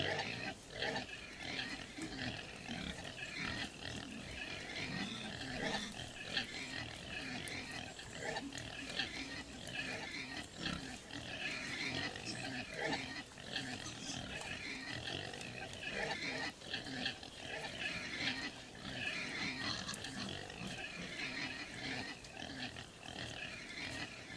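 Pigs in a livestock truck trailer in the driving game On The Road grunt and oink continuously, a dense, steady chorus of snorts at a moderate distance with no pauses.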